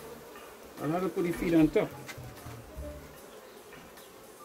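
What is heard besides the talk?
honey bees buzzing around a hive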